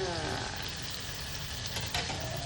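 Curry leaves hitting hot oil in a pot for upma, a strong continuous sizzle and crackle heard up close with no voices.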